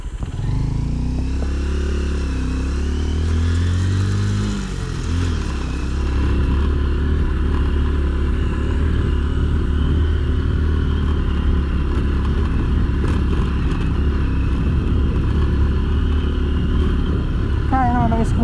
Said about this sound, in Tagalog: Kaya naman ng scooter dito mga kaibigan, pero sobrang taktak, diba?